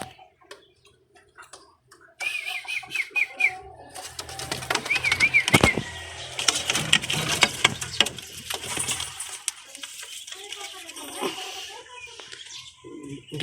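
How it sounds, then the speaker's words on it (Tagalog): Pigeons fluttering and shuffling nearby with soft cooing and tapping sounds, busy and close, after a quiet start. "Gandang ibon mga kalapatids oh."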